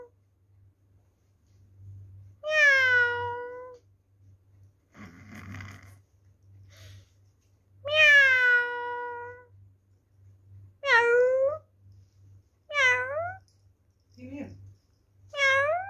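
A voice imitates a cat with a series of drawn-out meows, spaced apart, with soft breathy snoring-like noises and a low hum between them.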